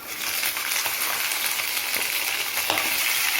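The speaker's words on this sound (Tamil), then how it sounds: "நண்டை எந்த ஒரு தாளிப்பும் இல்லாமல் நேரடியாகவே எண்ணெயில் போட்டுடலாம்." Crab dropped straight into hot oil with no tempering for a crab fry, giving a loud, dense, continuous close sizzle with a few faint clicks beneath it, and no voices.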